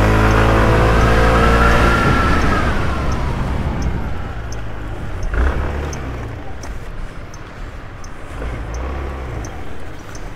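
Scooter engines and road traffic in Athens, a loud continuous motor drone that rises as the rider accelerates, then settles into steady riding noise with wind rumble and passing vehicles; a voice talks briefly over it.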